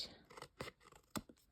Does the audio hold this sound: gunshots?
no